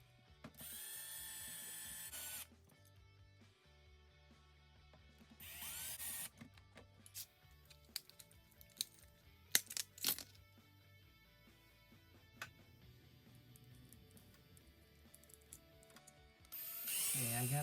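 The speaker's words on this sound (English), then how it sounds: "Okay, I got both castings drilled out." Small power drill boring out the castings of a diecast Matchbox truck, heard as a few short high whirring bursts at the start and end with ratcheting mechanical clicks and tool handling between them, close and fairly quiet.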